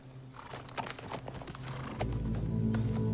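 Horse hooves clip-clop in a quick run of close, moderately loud hits, with a low steady rumble that swells in the second half.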